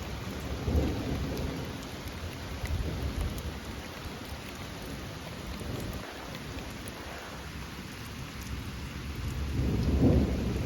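Steady rain pours throughout a stormy spell, with low rumbles of thunder building and swelling loudest near the end; no voices are present.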